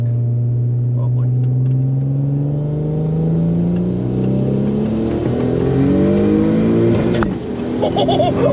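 A single-turbo Audi B5 S4 pulls hard through a flat-out no-lift shift from second to third, engine droning and climbing loudly from inside the car, with a brief break near the end and some talk.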